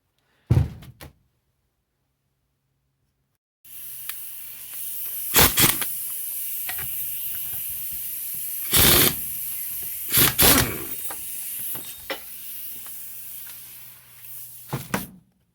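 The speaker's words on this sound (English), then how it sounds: "So first things first, 24mm nut on the front. You want to rattle gun that off." A rattle gun spins the 24mm nut off an alternator pulley from an Isuzu Trooper 4JX1, giving a long, loud whirring rattle broken by several harder hammering bursts, close and alone after a short silence.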